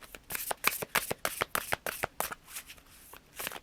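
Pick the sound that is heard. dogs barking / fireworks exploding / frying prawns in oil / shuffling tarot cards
shuffling tarot cards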